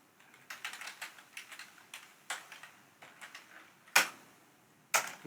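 Knife cutting through the thick peel of a pomelo: a run of crisp, irregular clicks and snips, fairly close, with two sharper, louder cuts near the end.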